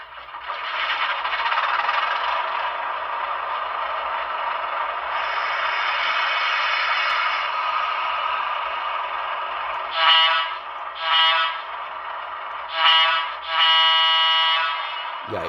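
A Broadway Limited Sharknose model locomotive starts up with a steady, loud mechanical hum and rattle, followed by several sharp horn blasts in a short toot-toot pattern, all close with no talking.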